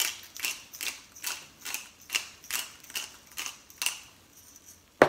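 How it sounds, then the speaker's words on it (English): Hand pepper grinder cranking peppercorns in a home kitchen: a steady series of rhythmic ratcheting, gritty crunches about twice per second, close and fairly quiet, ending with a sharp click. "I like to grind my own pepper too."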